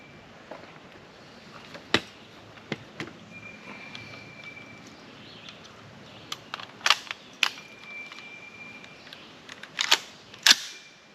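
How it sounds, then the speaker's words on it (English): Rifle shots from a Remington 6.8x43 SPC firing 110 grain VMAX polymer-tip bullets: sharp, scattered cracks, one strong shot early and a cluster of several later, over quiet outdoor background. "I'll put my ears on. So the other camera's running, take the shots"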